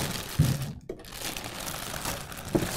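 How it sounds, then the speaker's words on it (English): A plastic bag is crinkled and pulled off a Cohesity C2505 appliance, a four-server 2U enclosure. Close, soft rustling comes with a few dull thumps and a brief quiet gap. "Here we can clear off the plastic bag."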